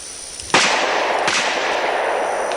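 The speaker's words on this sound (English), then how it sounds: "I want you to watch what the gun does in recoil with a 38 Special loading." A heavy-barrel revolver fires a single .38 Special round: one sharp, loud report at close range, followed by a second softer crack and a long, fading echo, with no voices.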